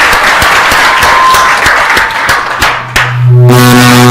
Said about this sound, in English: How about a round of applause for Guillermo?